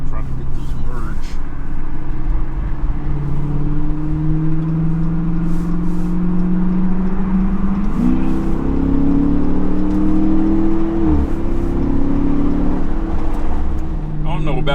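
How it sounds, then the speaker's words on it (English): A Chrysler 300 in sport mode accelerates to merge, heard from inside the cabin as a loud, steady engine drone that rises in pitch in stages with gear changes. Road roar sits underneath. "Alright, I'm in sport mode. Let's go ahead and try to get this merge."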